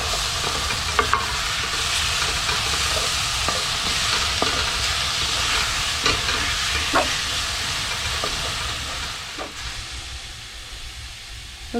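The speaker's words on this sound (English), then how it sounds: "this has been sauteing for about 5 minutes and it's almost done, so I'm now going to add about a tablespoon of garlic" Vegetables and garlic sautéing in a pan for gnocchi, giving a steady close sizzle and hiss with occasional stirring clicks and scrapes throughout, no talking.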